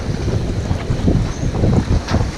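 Strong 30-knot wind roars across a sailboat near a rocky anchorage, a steady heavy rush with gusting buffets on the microphone and water sloshing underneath, loud and continuous.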